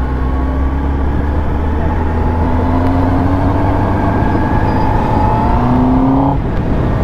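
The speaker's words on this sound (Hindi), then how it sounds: "बाकी आवाज़ कैसी लगी हमारी बाइक की, स्टॉक बाइक की" A stock Kawasaki Ninja ZX10R superbike engine runs loud and close, its pitch climbing steadily as it revs higher, then it drops sharply near the end.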